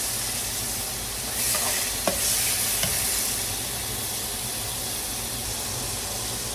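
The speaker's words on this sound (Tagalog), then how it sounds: "Habang nagme-melt ang ating butter" Butter melts in a pan with a soft, steady sizzle at low volume, broken by a couple of small pops or utensil taps partway through.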